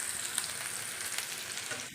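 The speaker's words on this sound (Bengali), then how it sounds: "লাল করে পেঁয়াজটা ভেজে নেব।" Onions frying in a pan for a chicken tikka curry, a steady bright sizzle with faint crackles, close and continuous with no talk over it.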